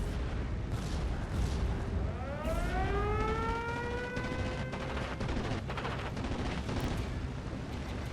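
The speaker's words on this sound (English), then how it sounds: "my second Panzerwerfer fires on the hilltop tree line to support the advance" A Panzerwerfer rocket launcher fires in Steel Division: Normandy 44, with rising and falling screeching rocket whines over a steady backdrop of distant battle gunfire and explosions.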